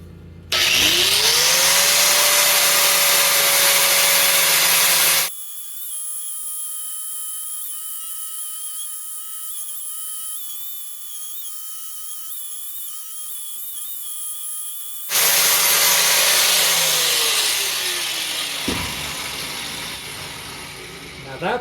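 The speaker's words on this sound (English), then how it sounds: "Now we're going to go ahead and clean up all these surfaces with the flapper disc." A flap disc on an angle grinder working the surfaces of a forged wrapped-eye axe in a blacksmith shop: a loud whining motor spinning up and grinding, a long quieter pause with a faint steady tone, then another grinding burst winding down.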